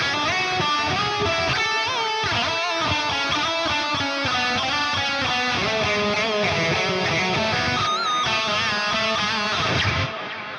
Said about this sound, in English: So next up, we're gonna move on to a lead guitar tone